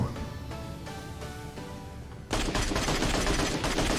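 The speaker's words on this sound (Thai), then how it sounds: "นั่นก็คือเจ้าปืน MK12 นั่นเอง มีปืนใหม่เข้ามาอีกแล้ว" In PUBG Mobile, an MK12 sniper rifle fires a rapid series of sharp, loud shots, with a denser burst of gunfire in the second half.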